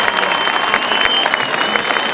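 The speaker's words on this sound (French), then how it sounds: "Applaudissements, mesdames et messieurs" A grasstrack race crowd in Marmande applauds in a dense, steady wash of clapping that stays loud and close from start to finish.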